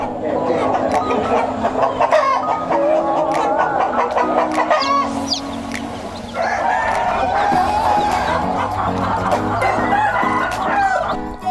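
A flock of free-range kampung chickens clucks and calls nearby, with a rooster crowing partway through, under a steady voice talking over the birds.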